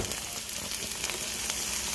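Cauliflower rice added to a hot pan with taco-seasoned turkey mix, giving a steady, close, hissing sizzle that holds evenly for two seconds.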